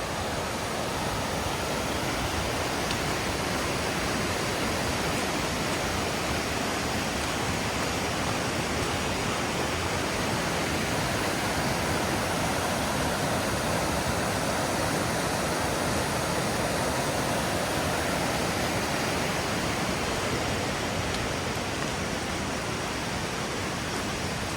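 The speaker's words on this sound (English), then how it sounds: "that is the Rubicon River there" The Rubicon River rushes past near Rubicon River Road, a loud, dense and unbroken roar of flowing water that holds steady throughout with no voices.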